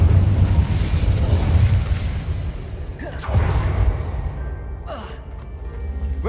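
An Incendio fire spell cast in a Harry Potter video game, a whooshing burst of flame over a constant rumbling game background, with a second swelling blast a few seconds later.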